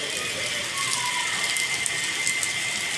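Heavy rain pours down in a steady hiss of drops striking surfaces, loud and continuous throughout with no talking.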